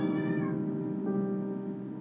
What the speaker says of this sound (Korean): 저희 고양이가 좀 울고 있습니다